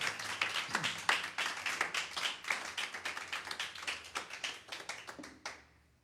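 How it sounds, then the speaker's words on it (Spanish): A church congregation clapping steadily in a brisk, continuous round of applause that fades out at the end. "Y esto sí merece un aplauso al Señor Jesucristo"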